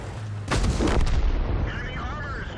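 A tank cannon in World of Tanks fires once, a sudden loud boom about half a second in that decays into a rumbling tail with faint game tones afterward.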